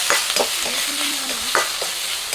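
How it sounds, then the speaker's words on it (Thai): Beef being stir-fried in a wok, a loud steady sizzle with several sharp scraping strokes of the spatula, close and continuous with no talking. "อย่า อย่าผัดให้สุกมากนะครับสุกมากก็เดี๋ยวเนื้อเขาจะเหนียวนะครับ"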